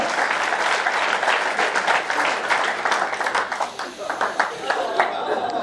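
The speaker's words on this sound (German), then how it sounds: "Applaus bitte für." Audience at a fan Q&A event in Hamburg claps loudly and continuously, dense applause with a brief dip midway, while a voice speaks over it.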